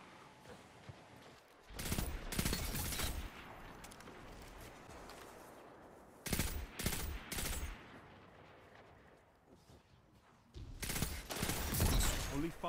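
Pulse rifle fire in a Destiny PvP match, with several bursts of rapid shots in clusters separated by quieter stretches of game ambience.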